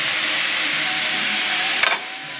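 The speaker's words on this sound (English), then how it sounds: "Now let's go saute our mushrooms, okay?" Mushrooms sautéing in a pan for homemade ravioli filling, a steady broad sizzle and hiss throughout with a brief stirring scrape near the end, close and fairly loud with no talking.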